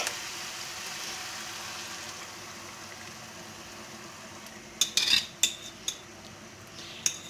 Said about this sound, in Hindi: और हम इसको अच्छी तरह मिक्स कर देंगे अपने मसाले के साथ।